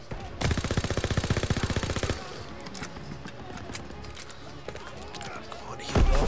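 A burst of fast machine-gun fire from the video game Call of Duty WWII hammers loudly for about two seconds, followed by quieter scattered shots and another sharp report near the end.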